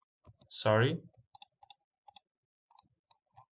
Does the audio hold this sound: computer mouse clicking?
yes